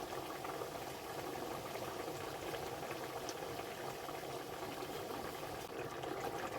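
Lentil dal with bitter gourd bubbles at a steady boil in a pot, a continuous dense simmering rumble with fine bubbling texture, close and uninterrupted, no voices.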